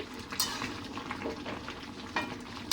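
Mutton being stirred in a pot, a few soft scraping and clinking strokes with light sizzling underneath, close and fairly quiet.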